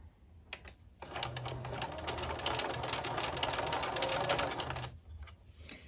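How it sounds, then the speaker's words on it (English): A sewing machine runs in one steady continuous burst for about four seconds as it stitches the edge of a cloth panel book, with a brief start and stop at each end and no talking. "turn this again down right where the stitching line is, and sew the next side"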